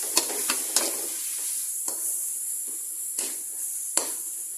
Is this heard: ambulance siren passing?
no